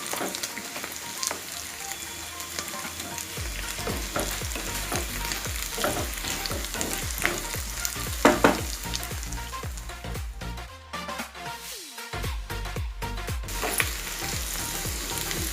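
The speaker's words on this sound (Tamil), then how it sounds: "பாருங்கள், உருளைக்கிழங்கு நமக்கு சூப்பராக ஃப்ரை ஆகி வந்துச்சு" Potato pieces fry until crispy in hot oil with a dense sizzle, while a spoon stirs and scrapes the pan in repeated clattering strokes that briefly quiet and then pick up again.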